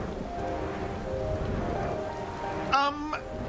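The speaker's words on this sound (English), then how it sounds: "Is it thunderstorming? Or is it just, heavy rain? No, it is thunderstorming." Steady heavy rain hisses evenly throughout a Final Fantasy XIV thunderstorm scene, with a voice briefly cutting in near the end.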